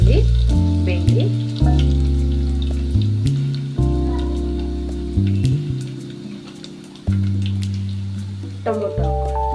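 Crushed garlic fries in a pan for a tomato sambar and rasam recipe, giving a faint crackling sizzle with scattered pops under loud, steady background music.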